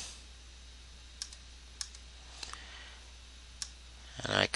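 Computer mouse clicks while an image is inserted in WordPress: a handful of sharp, quiet single clicks spaced irregularly over a low hum, ending in a short louder cluster of clicks.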